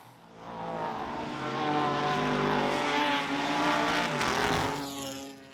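Historic race cars accelerate hard at the restart after a safety car period at a revival meeting, a loud engine roar rising as they pass close by and then fading, with no voices.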